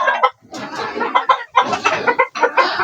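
Chickens cluck and squawk close by in their room, a dense run of overlapping calls in short bursts with brief gaps between.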